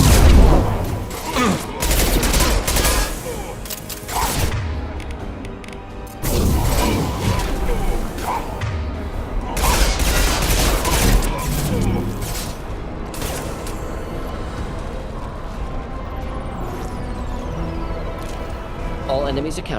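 Rapid bursts of gunfire and crashing impacts fill a firefight in the video game Mass Effect 2, loud and dense throughout, with voices shouting over the combat.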